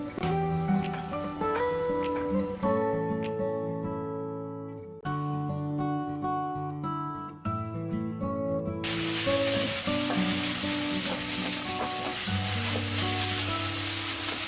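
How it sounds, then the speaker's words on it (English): Tomatoes fry on high flame with a steady sizzle and occasional stirring scrapes, heard close up while music with sustained notes plays underneath throughout. "Keep mixing it and fry this on high flame."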